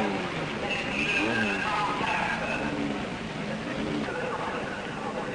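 A Lotus racing car at the 1958 European Grand Prix roars across the finish line, its engine a broad, steady drone under continuous commentary, with other racing cars close behind.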